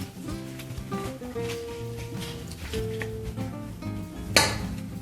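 Melted margarine being stirred into a mixture in a bowl, with a spoon clinking and scraping against the dish in uneven taps and one sharper knock near the end.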